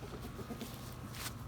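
Hens near a backyard coop cluck softly and intermittently over a steady outdoor background hum, with no talking heard.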